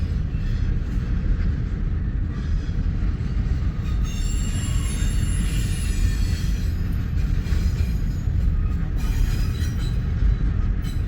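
A long Norfolk Southern freight train rolls past in a steady, loud rumble of wheels on rail, with a high metallic squeal drifting in and out, near and continuous throughout.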